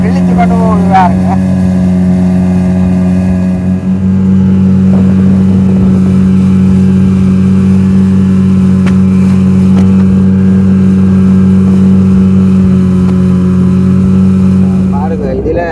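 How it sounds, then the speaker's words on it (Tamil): A small boat driven by a 25 horsepower outboard engine cuts across island waters, the engine droning steadily and loudly throughout with a faint rush of water, while someone talks over it. "மிக 25 குதிரை வேலுவை கொண்ட ஒரு இன்ஜினில் தான் நாங்கள் இப்போ போய் கொண்டிருக்கிறோம்."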